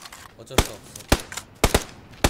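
Gunfire in the battle-royale shooter PUBG: four sharp, loud shots, single cracks and a quick double, spaced unevenly over a quiet background.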